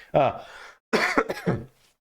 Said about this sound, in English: I'm going to have to cough. Please excuse me. I am sick.